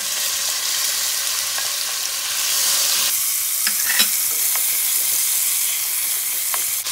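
Tenderized strips of beef for chili fry in about two teaspoons of oil, giving a loud, dense, continuous sizzle with a few sharp spatters and stirring clicks.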